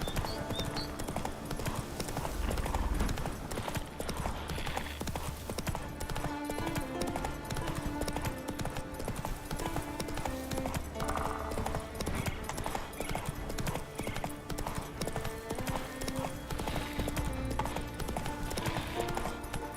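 Roach, a horse in the video game The Witcher 3: Wild Hunt, trots with steady, rhythmic clip-clop hoofbeats throughout, set under a dense, continuous layer of music and ambience.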